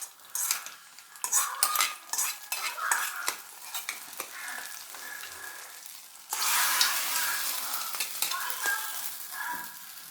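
A spoon stirs cashews into a pot of green gram payasam, with scraping and clinking that shifts into a louder sizzle partway through, all close by.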